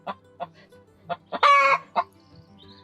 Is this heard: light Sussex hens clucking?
yes